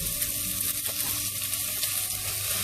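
Roughly chopped onions sautéing in a pan over medium flame, a continuous dense sizzle and crackle at close range with no voices.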